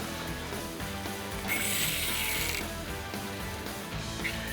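A saltwater fishing reel's drag clicks in a rapid ratcheting run while a barracuda is fought from a kayak on a long rod, the steady clatter swelling briefly louder midway, with no voices.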